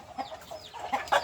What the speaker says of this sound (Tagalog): Manok, daming manok.